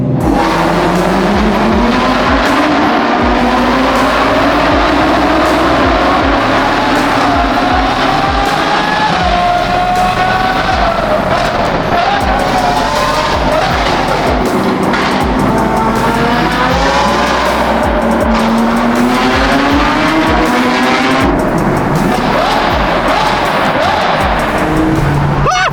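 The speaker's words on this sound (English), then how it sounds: "There's no other car that sounds like that." A Ferrari sports car revs hard inside a tunnel, its loud, echoing engine note climbing and falling through repeated surges with a harsh, ringing edge, close and continuous throughout.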